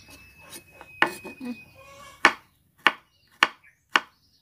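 A knife chops garlic and chili on a board, with a few soft strokes and then several loud, spaced chops, each distinct and close.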